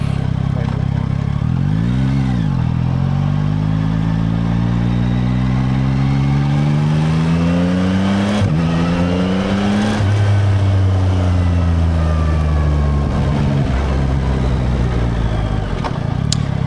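A motorcycle engine drones steadily at close range, its pitch rising and falling as it accelerates and shifts gears on the move.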